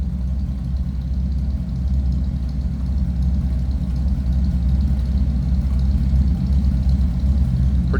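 A 1938 Plymouth 5-window coupe with a hot-rod feel idles steadily for several seconds, a constant low, throaty engine rumble with no talk.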